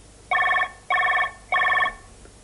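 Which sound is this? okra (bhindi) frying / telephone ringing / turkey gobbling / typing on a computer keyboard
telephone ringing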